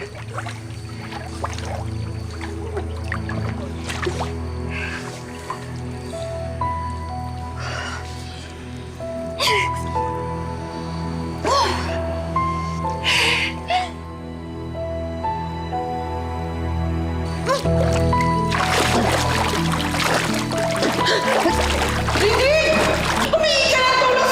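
Splashing water from people swimming in open water, irregular splatters and sloshes close by that grow busier and louder toward the end, layered over a steady musical score.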